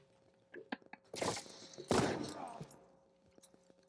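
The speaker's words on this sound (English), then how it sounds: "Ready for an up-close sniper rifle to the dome?" Sniper rifle shots in The Last of Us Part II, two loud, close blasts about half a second apart with rumbling tails, mixed with lighter thumps and clicks of gameplay action.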